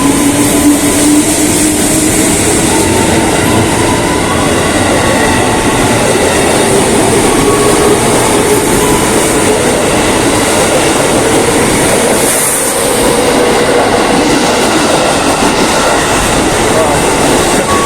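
Commuter train in Indonesia riding toward Manggarai, heard from inside the carriage as a loud, continuous rumble with rattling and clickety-clack of wheels, a brief dip partway through.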